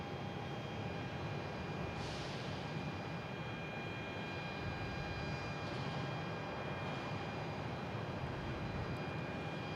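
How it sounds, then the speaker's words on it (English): A Delta Boeing 737-900 arriving from Detroit at Boston Logan roars as a steady, distant airliner engine rumble, constant throughout with a faint high whine, with no talking. "we have Delta coming in from Detroit. 737-900"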